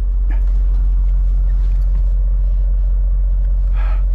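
A semi truck idles nearby, its diesel engine holding a steady, heavy low rumble throughout, with a short clatter near the end.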